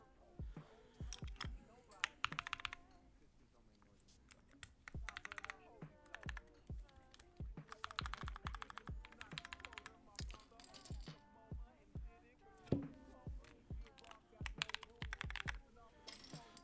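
Typing on an Alice-layout keyboard fitted with Cherry MX Brown switches, close-up bursts of soft, rapid keystrokes with short pauses between runs of keys, and a voice talking faintly underneath in places.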